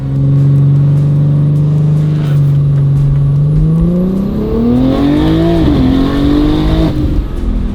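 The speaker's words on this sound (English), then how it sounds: "We're gonna try a second gear launch, see if it spools up" A single-turbo BMW G82 M4 launches in second gear, its engine droning low and steady before the revs climb with a rising whine as the turbo spools, loud and close, with no talking.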